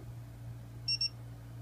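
The audible alarm of a Checkline TSD digital torque screwdriver gives two quick, high electronic beeps on reaching the target torque. The beeps are clear and close over a low, steady hum.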